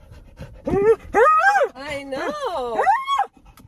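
An excited dog pants loudly and rapidly inside a car, breathing in quick rhythmic bursts close to the listener, with a person speaking briefly over it.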